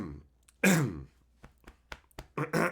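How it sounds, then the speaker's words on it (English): A man clears his throat with a short, raspy rough burst, followed by a few faint clicks and quieter throat noises and a brief final vocal rasp, close to the microphone. "Let me clear my throat"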